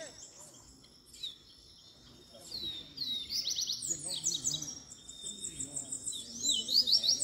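Caged coleiro seedeaters and capim birds sing together in a warm-up session, trilling and chirping in layered, rapid bursts that build in volume, with a faint insect-like buzz and occasional low voices underneath.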